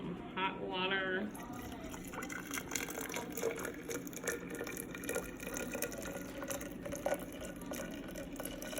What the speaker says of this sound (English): I'm just going to add some hot water.